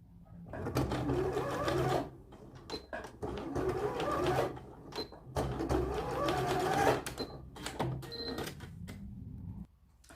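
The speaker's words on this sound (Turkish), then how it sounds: "Şuradan da şöyle bir küçük bir dikiş atalım." A sewing machine stitches a vest in bursts of steady, close whirring, about four runs separated by short pauses.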